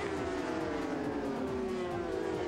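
Kawasaki and Suzuki British Superbike race motorcycles scream past at a race circuit, one overtaking another, engine pitch sliding steadily downward as they pull away, loud and continuous with no talk.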